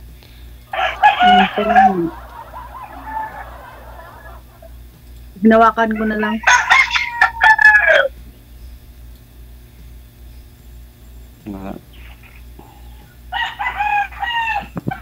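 A rooster crows loudly a couple of times nearby, with hens clucking between, while a person speaks briefly over a faint steady hum.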